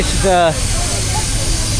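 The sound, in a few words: steam wagon hissing steam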